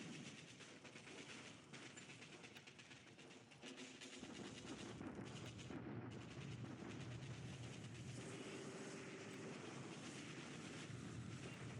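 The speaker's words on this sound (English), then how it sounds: "Typical Allied bombardments." Artillery bombardment in a strategy war game set in India in March 1942, a dense continuous rumble of distant shelling and gunfire that thickens after a few seconds and stays loud and steady throughout.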